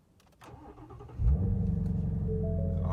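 A 2020 Shelby GT350 Mustang fires up in neutral: a short starter crank, then a loud, bursting catch into a steady, rumbling idle that carries on close by to the end.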